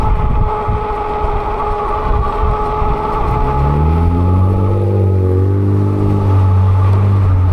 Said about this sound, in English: got some traffic catching up with us now